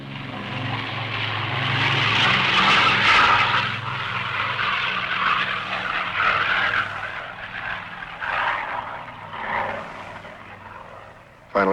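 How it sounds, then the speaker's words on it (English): Aircraft engines roar during takeoff on a 1955 flight, a loud sustained drone that swells and fluctuates for several seconds before cutting off near the end. "Finally, time for takeoff."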